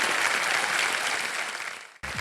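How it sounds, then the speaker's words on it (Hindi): Studio audience at a KBC High Flyers game show breaks into sustained, even applause, full and close, cutting off abruptly near the end before a voice starts. "और ताली बज जाए इनके लिए।"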